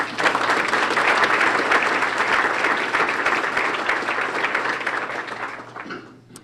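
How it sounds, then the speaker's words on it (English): An audience at an awards ceremony applauds steadily for several seconds, dense clapping that gradually thins and fades out at the end. "please give Chris a round of applause"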